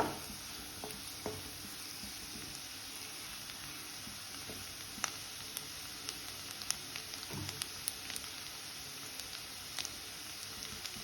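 Garlic frying in plenty of butter in a pan for garlic rice, a soft steady sizzle and hiss with scattered small crackles and pops, faint and continuous.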